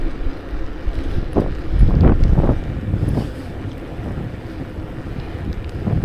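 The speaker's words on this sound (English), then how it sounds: "There was no wind yesterday, but there's some wind today." Wind buffets the microphone while riding a bicycle outdoors. A steady, loud rumbling roar continues throughout, with a few stronger gusts and thumps near the start, and no talking.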